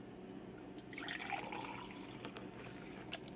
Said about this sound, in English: I'm gonna just pour half.